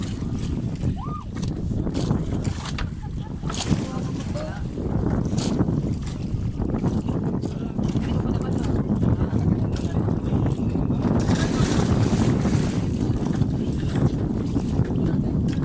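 A boat motors across open water, its engine droning under steady, loud wind buffeting the microphone, with faint voices now and then.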